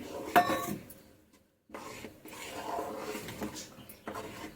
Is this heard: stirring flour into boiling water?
yes